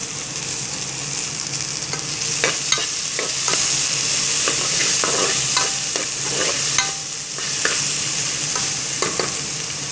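Onions fry in a pan with a steady bright sizzle while a utensil stirs them, making repeated scraping knocks throughout, close and continuous with no talk.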